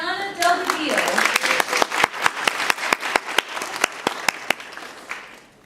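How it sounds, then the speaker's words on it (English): Audience applause for a student: a voice trails off as clapping builds, then sparse, distinct hand claps continue and slowly thin out toward the end. "everyone please give a big round of applause for Mariana Delgadillo."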